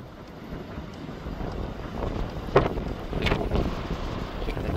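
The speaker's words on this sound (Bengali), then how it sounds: "এখানে কিন্তু হাওয়া হচ্ছে খুব জোর।" Strong wind roars across the open mountainside at Rohtang Pass near Manali, buffeting the microphone in a steady rumbling rush with a couple of sharper gusts midway.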